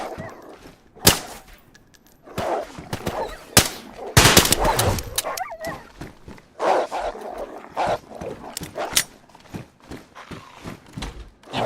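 Wolves in the DayZ video game bark and yelp in sharp bursts, some close and loud, others farther off, mixed with intermittent cracks and noise through the clip.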